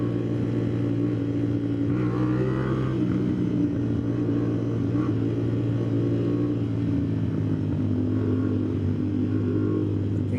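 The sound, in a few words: 450 SR motorcycle engine revving and riding on NLEX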